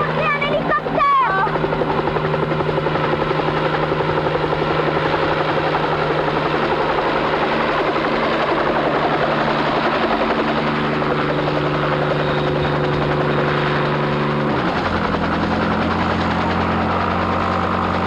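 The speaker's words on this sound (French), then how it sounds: "regardez, un hélicoptère." A helicopter's steady rotor drone and engine hum fill the scene, continuous and fairly loud, with a brief clatter near the start and voices faintly in the background.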